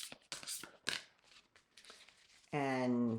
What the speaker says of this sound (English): And that's the fourth shuffle.